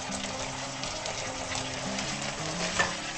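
Fried egg pieces stirred into thick simmering Egg Manchurian sauce in a pan, a steady close sizzle and frying hiss with soft stirring scrapes, no talking.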